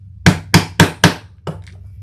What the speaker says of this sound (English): the mallet's coming out, guys.